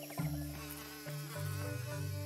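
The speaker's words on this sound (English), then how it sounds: "I can't go by the bees." Insect buzzing from bees in the Return to Monkey Island adventure game, a steady droning hum sitting under layered music tones across the short moment, fairly faint and continuous.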